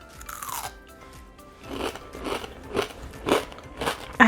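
Homemade butterscotch crunchies bitten and chewed close up: a crinkle near the start, then several sharp crunches at irregular intervals, moderately loud, with no talking.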